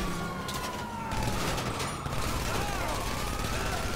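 A police car siren wails in the GTA Online video game, its rising and falling tone sweeping over a dense, noisy backdrop of mechanical clatter and bursts during a chase.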